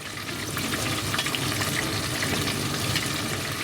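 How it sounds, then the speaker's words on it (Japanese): Shrimp deep-frying in oil at 170 degrees gives off a steady, dense crackling sizzle that holds at an even level throughout, close and with no voices. "今170度で揚げてます"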